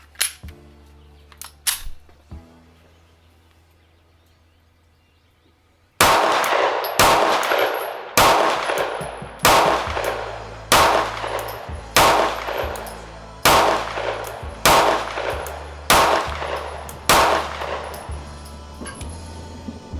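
Rapid string of loud, close pistol shots from a Sig P365XL Spectre Comp fired on a range, about nine evenly spaced reports with ringing tails, preceded by quieter metallic clicks and handling sounds.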